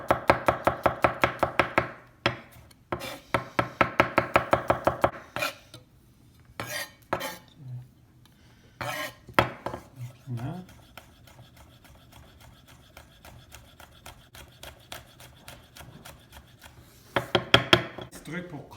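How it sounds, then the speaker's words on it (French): A knife mincing three garlic cloves and two chili peppers on a cutting board, rapid rhythmic bursts of sharp chopping taps separated by pauses, close and fairly quiet, with a final quick flurry near the end. "on va émincer 3 gousses d'ail avec 2 piments."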